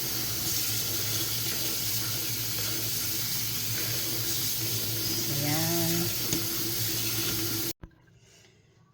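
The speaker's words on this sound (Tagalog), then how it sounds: "Hugasan natin ng malamig na tubig para hindi siya magdikit-dikit." Cold tap water pouring steadily onto cooked kwetiaw noodles in a sink, a loud continuous rushing hiss that cuts off abruptly near the end.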